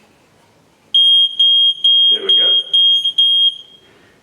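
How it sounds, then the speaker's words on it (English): A water leak detector under an RO system's cupboard sounds a loud, piercing alarm in six rapid pulsed beeps, close and steady-pitched, with a brief voice and some handling noise underneath. "As soon as the water connects these 3 contact points at the bottom of the system, an alarm goes off, audibly telling you that something is wrong"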